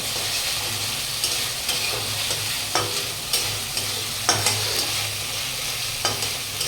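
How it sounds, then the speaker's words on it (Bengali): Tomatoes sautéing in a hot pan for a fish curry, a steady broadband sizzle with intermittent sharp scraping stirs from a spatula, close and continuous, no voices. "টমেটো দিয়ে ভালো করে কষে নেব।"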